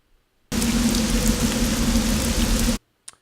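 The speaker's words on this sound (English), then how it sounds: "It's a rain loop." Looping exterior rain ambience for a game, a steady dense hiss of rainfall that starts abruptly, holds evenly for a couple of seconds and cuts off, followed by a brief faint click, with no talking.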